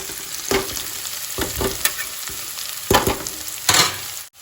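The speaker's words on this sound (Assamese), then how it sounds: "এতিয়া এইটো ফ্ৰাই হৈ আছে" Maggi noodles frying and being stirred in a hot pan, a steady sizzle broken by several louder scraping, stirring bursts, close and with no talk.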